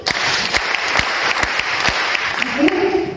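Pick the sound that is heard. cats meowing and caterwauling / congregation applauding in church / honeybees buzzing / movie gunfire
congregation applauding in church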